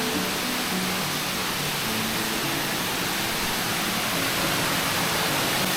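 Waterfall near Mae Kampong in Thailand, heard as a loud, constant wall of rushing, roaring water that stays close and steady throughout with no breaks.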